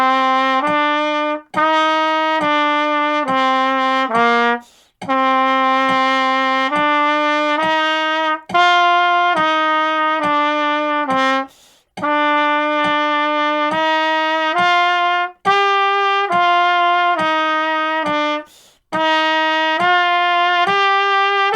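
Trumpet playing scale study number 7 in C, a series of clear, sustained tones stepping through the scale in phrases, with short breaths between groups of notes, near and bright with no talking.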